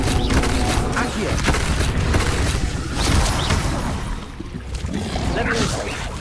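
Fiery spell blasts from Confringo in Hogwarts Legacy boom repeatedly through a dense, loud battle din, with bursts of crackling impact overlapping continuous game noise and shouted spell voices.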